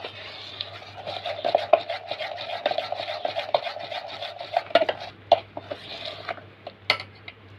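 Cake batter mixed with oil in a bowl, stirred steadily with continuous scraping and rubbing strokes and occasional sharp clinks of spoon against the bowl; close and fairly loud, with no voices.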